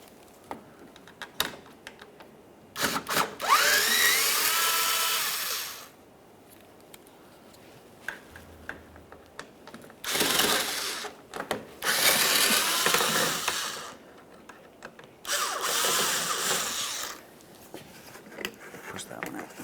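A power tool whirs in several bursts, loosening the license plate bracket bolts on a 2012-2015 Honda Civic, each run lasting a few seconds with quieter handling noises between.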